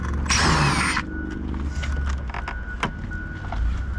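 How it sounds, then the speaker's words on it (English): Interior door panel being pried off a Jeep Grand Cherokee WJ, a loud burst of plastic creaking and clip scraping at the start, then quieter rustling and a sharp snap near the end. "So we're going to pull this door panel off"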